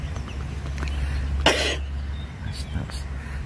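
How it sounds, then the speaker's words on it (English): A child gives one short, sharp cough midway, followed by a softer throat noise, over a low background hum. "Excuse the daughter from coughing."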